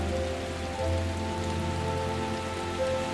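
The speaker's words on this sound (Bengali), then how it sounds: "কি সুন্দর বৃষ্টি।" Rain falls in a steady, even wash of soft hiss, close and constant from start to finish, accompanied by a faint low steady hum in the background.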